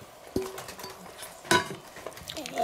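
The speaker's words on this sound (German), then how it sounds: "Die Pommes einrühren, die aus Kartoffelpulver sind." A spoon stirs thick potato-powder fries batter in a bowl, with faint scraping and a few sharp clinks against the dish.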